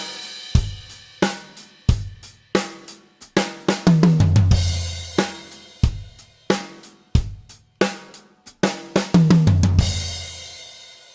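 A drum fill played with alternating right-left sticking rolls around three drums, repeated in quick bursts of close, loud hits separated by short pauses, with no voices.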